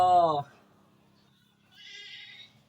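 Goats bleat on a farm: a loud, near bleat opens, then after a quiet pause a second, fainter, higher-pitched bleat follows from farther off.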